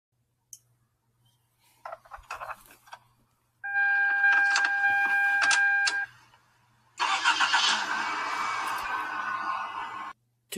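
A 2002 Chevy Prism at a dealership in January: a few faint clicks, then a whirring starter cranks for a couple of seconds, and the engine catches into a loud, steady idle.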